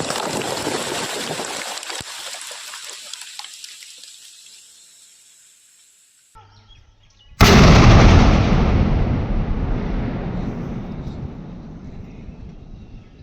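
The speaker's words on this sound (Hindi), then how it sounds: "उसे भी सुरक्षित तरीके से विस्फोट करके निष्क्रिय किया गया है" Two controlled detonations of IED bombs go off outdoors: a first blast rolls away into a long fading rumble, then a second, louder boom hits sharply and leaves a sustained roar of falling debris and echo that slowly dies down.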